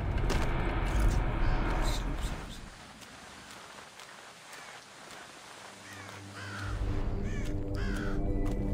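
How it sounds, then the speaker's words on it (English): Crows caw repeatedly in the Thief cathedral level, harsh calls standing out against ambient game sound and rain-like hiss, with a quieter stretch in the middle before the calls and background swell again. "I really want to kill these crows."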